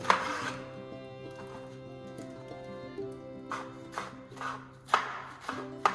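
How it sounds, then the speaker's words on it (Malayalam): Malabar spinach leaves are chopped on a board for a dal curry, giving a few scattered, sharp knife strikes spaced seconds apart over a quiet tonal background. "പാലക് ചീര പോലെ അരിയുമ്പോൾ ഒരു ക്രിസ്പി ഫീലാണ്."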